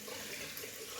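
Hot water runs from a tap during a wet shave with a safety razor, a steady close rushing stream with no speech.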